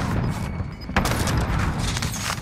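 A frag grenade goes off in Call of Duty Warzone, a sharp blast about a second in that spreads into a dense, rumbling burst of gunfire and explosion noise, loud and close, with continuous crackling after.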